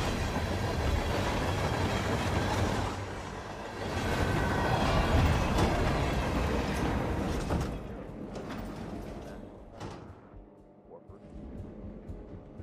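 A moving train in the video game Hitman 3, set in the Carpathian Mountains, rumbles steadily with a low, continuous rolling drone and faint rhythmic clatter, easing off and thinning toward the end.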